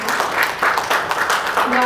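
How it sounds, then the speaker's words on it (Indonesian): A church congregation claps for two newly graduated members during an Indonesian Sunday worship service, a loud, continuous ripple of applause with voices mixed in. "Boleh kasih tepuk tangan dulu."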